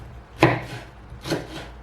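Hot peppers being chopped into rings with a knife on a cutting board: two sharp, close thuds about a second apart, each followed by a short rustle, with no talking.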